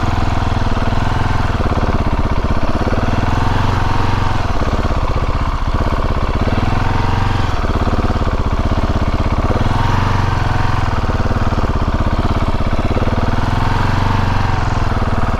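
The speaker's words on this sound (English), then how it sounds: "we are now off-roading my KTM 690" A KTM 690 SMCR single-cylinder motorcycle engine rumbles steadily while riding off-road, its note rising and falling with throttle changes, loud and close throughout with no talking.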